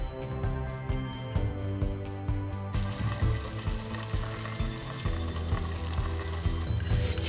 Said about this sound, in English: Leave it to boil for 15 minutes.